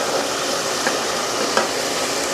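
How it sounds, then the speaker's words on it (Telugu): A biryani mixture is stirred in a frying pan, a steady close sizzle and frying hiss with faint scraping strokes of the spoon. "ఇప్పుడైతే బాగా కలుపుకోవాలి చూసారా ఇలా కలుపుకోవాలి బాగా"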